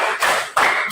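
Two sharp claps in quick succession from a group clapping in rhythm, close and loud with no voices.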